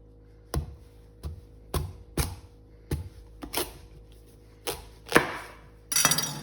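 A knife chopping through a squash on a kitchen cutting board, giving a series of sharp, close knocks at irregular intervals, about eight strikes in all, ending in a brighter crunch.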